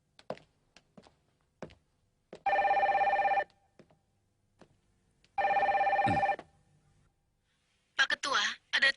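Two long bursts of an old-style telephone bell ringing in a cartoon office scene, separated by quiet taps and footsteps, with a short voice near the end.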